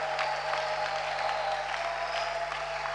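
Church congregation at a morning prayer service applauding, a steady wash of clapping from many hands spread through the room at moderate volume, with no individual claps standing out.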